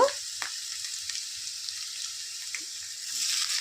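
Light, soft sizzle of beans frying gently in a pan, with a few small clicks and a brief stir, growing slightly louder near the end.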